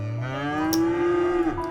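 Cows on a farm in the city-building game Cities Skylines give a single long, clear moo with a falling tail, close and prominent, with no talk over it.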